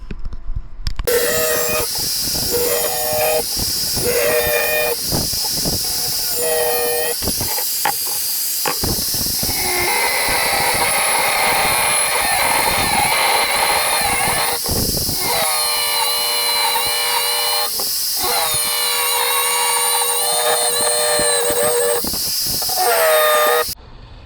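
An abrasive cutting wheel slices through a steel steering column tube from a T-bucket hot rod, giving a long, loud, high-pitched whine and hiss broken by several short pauses and restarts.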